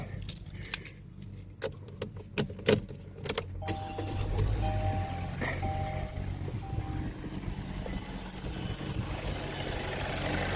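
A 2022 Kia Forte is started after an oil change and settles into a steady idle, a continuous low engine hum that follows earlier clicks and key jingles, heard close by with no talking.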